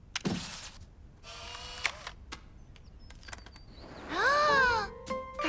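A camera is being used to take a photograph in a children's cartoon, heard as a few brief mechanical clicks among assorted sound effects and musical tones, fairly quiet overall.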